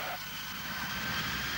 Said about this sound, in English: On touchdown, clouds of smoke shoot from the tires of this jumbo jet.